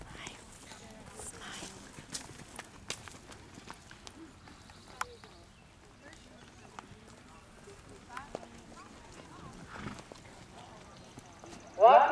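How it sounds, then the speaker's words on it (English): Horses walking into the center of an arena at a bareback pleasure show, soft hoof clip-clops scattered throughout with faint whispering and murmuring, and a louder burst at the very end. "Please walk your horse into the center of the arena."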